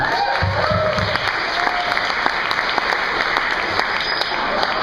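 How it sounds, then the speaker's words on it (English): A crowd claps for the speaker's mother on the eve of her 60th birthday, a steady, moderately loud round of applause with faint voices briefly audible underneath early on. "How about a round of applause for my mom?"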